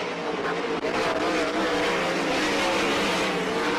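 Speedway motorcycles race nose to tail at night at the Warrnambool track, a continuous loud engine roar holding steady throughout with no break.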